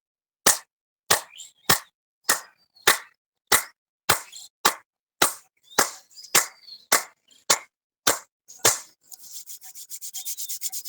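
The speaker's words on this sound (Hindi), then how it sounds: "ताली बजा लें 15 बार।" A group at a yoga session claps hands fifteen times in a steady, evenly spaced rhythm, each clap sharp and distinct, followed by a quick run of softer rubbing or patting.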